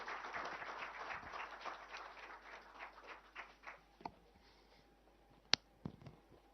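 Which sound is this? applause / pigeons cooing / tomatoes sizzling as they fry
applause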